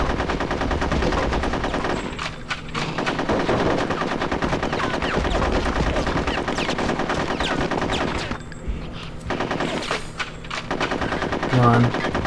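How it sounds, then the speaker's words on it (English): Machine gun fire rattles almost continuously in Conker's Bad Fur Day, dense bursts of rapid shots filling the game's battle sounds with only short lulls between volleys. "Oh, he actually shot me."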